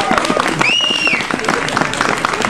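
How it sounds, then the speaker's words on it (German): A festival audience applauds to welcome Omi Waltraud at a gingerbread fair. Loud, close clapping fills the moment, mixed with crowd noise and a brief high tonal whistle-like sound. "Das ist ein Applaus."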